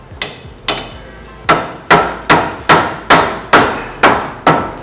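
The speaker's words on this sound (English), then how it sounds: "You want to have a little dead blow hammer around" Nine sharp dead blow hammer strikes on the rear axle of a Polaris RZR Pro XP, spaced roughly half a second apart, each a loud, close crack with a short ringing decay.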